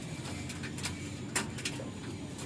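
Young racing pigeon squabs coo softly in a loft in Sariaya, Quezon, a few low murmuring calls over steady background noise, with no one talking.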